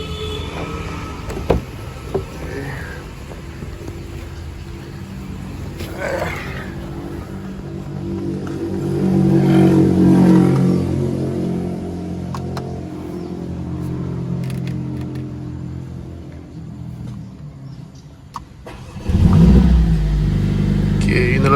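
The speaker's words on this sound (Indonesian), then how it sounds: "Inilah suara cool start dari Mercedes-Benz CLA 45S, one man one engine." A Mercedes-Benz CLA 45S turbocharged four-cylinder fires on a cold start and idles high, swelling in a rev around the middle, then a sharper blip of revs near the end.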